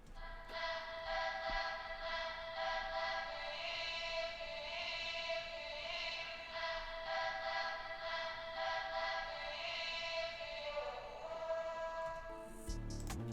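Arcade synth preset from the Understated bank, a dark ambient tone with steady sustained harmonic layers and a bright ringing line, holding at an even level alone for most of its length before shifting near the end.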